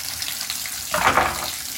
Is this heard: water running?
yes